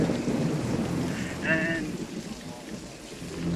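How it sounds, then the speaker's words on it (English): Rain falls steadily outdoors, a constant broad hiss and patter that holds across the whole stretch, with a brief voice or tone rising faintly above it midway. "it's raining"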